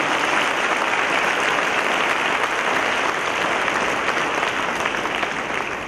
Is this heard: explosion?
no